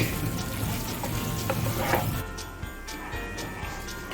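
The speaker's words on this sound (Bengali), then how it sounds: "এই পনিরটি নাড়াচাড়া করে নেব।" Paneer cubes are stirred and fried in a pan for a yogurt-gravy dish. A steady sizzle runs under scraping stirs, then drops away to quieter scattered crackles and ticks near the end.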